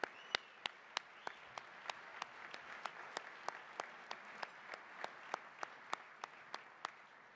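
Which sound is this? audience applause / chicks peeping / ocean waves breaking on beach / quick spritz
audience applause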